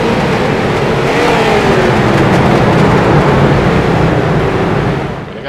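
Street stock race car engines roaring at Charlotte in iRacing, a loud, steady droning pack of cars held at high revs with a slight shifting pitch, fading a little at the end, no voices.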